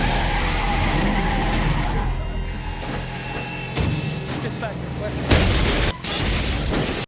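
A minivan crash in a movie: tires skid and screech over a loud engine roar, followed by sharp impact bangs near the end, with a voice talking over the scene.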